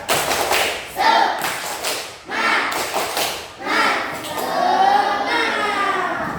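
Primary schoolchildren in an Indonesian classroom perform the tepuk semangat, a rhythmic clapping chant, in quick bursts of claps mixed with loud chanted voices, pausing briefly between phrases.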